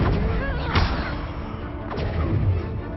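Confringo spell cast in Hogwarts Legacy, a video game: heavy booming blasts and thuds rolling under a dense, noisy battle soundscape, with a couple of sharper hits standing out over a constant loud rumble.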